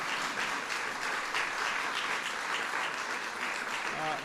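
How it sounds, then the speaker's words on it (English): An audience applauds to welcome a speaker at an Asian American and Pacific Islander Heritage Month event, with dense, continuous clapping throughout at a steady level. "I want to give a huge welcome and big round of applause"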